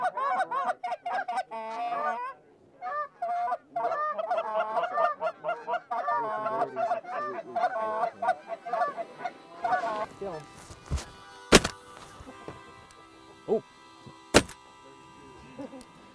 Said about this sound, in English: the geese want to be in this field